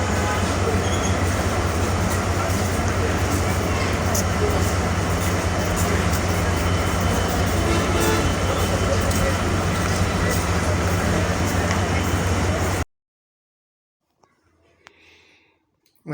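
A train pulling away from a railway station in Dhaka, with a loud, steady close-up rumble of wheels and carriages that cuts off abruptly near the end into near silence.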